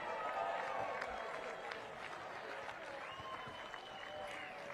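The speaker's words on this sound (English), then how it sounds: "Let's give a big round of applause for both teams today." A crowd at Spokane Hoopfest, the 3-on-3 basketball tournament, applauds both teams at an outdoor awards moment, a faint, diffuse clapping with a steady open-air background.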